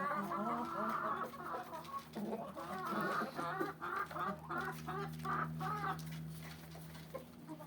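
Several chickens cluck and murmur continuously nearby, with a low steady hum underneath.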